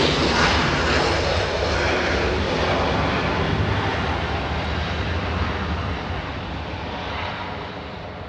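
A JetBlue airliner lands on runway 24 right at Los Angeles International Airport, a loud, broad engine roar that fills the scene and slowly fades over several seconds.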